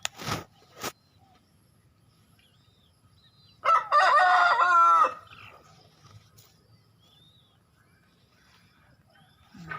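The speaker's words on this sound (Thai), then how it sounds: "มีแม่ไก่กับลูกไก่" A rooster crows once, loud and close, with a few faint clucks from a hen and chicks and sharp clicks scattered around an otherwise quiet yard.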